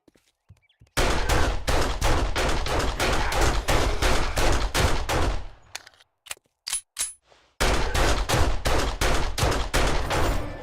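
Rapid automatic gunfire in the survival game 7 Days to Die, with a long dense burst of shots, a short pause broken by a few isolated rounds and faint metallic clinks, then another sustained burst, loud and close.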